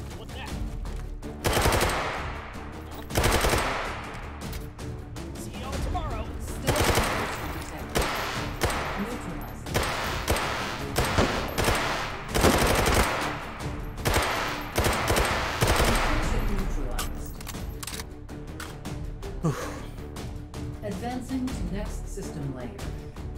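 Incendiary rounds fire in bursts of loud, close automatic gunfire in the VR shooter H3VR, with rapid volleys separated by short pauses and a voice talking at times between them.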